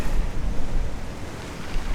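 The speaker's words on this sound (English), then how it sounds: "just trying to take in this big sort of semicircle of waves and firing the shutter as those waves roll out" Ocean waves rolling onto a shore in a big semicircle, a loud continuous roar of surf with wind buffeting close to the microphone and no voices.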